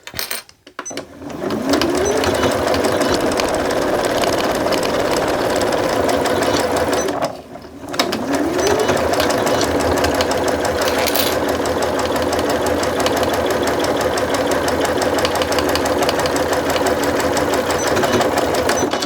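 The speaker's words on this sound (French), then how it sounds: "Donc 1 cm, je me pointe mon aiguille, je baisse mon pied et c'est parti." A sewing machine stitching a seam on an insulated bum bag runs with a loud, steady mechanical whir, stopping briefly once partway through before carrying on at the same even pace.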